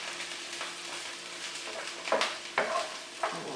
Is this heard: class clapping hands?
no